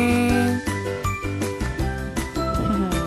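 A bright, chiming bell-notification jingle from a Subscribe and Like button animation rings continuously with steady tinkling tones and layered musical notes, close and loud, with no talking.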